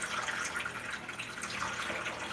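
Running water from a sink tap splashes over soaked food being strained, a soft continuous trickle with faint drips, close but quiet and without talking.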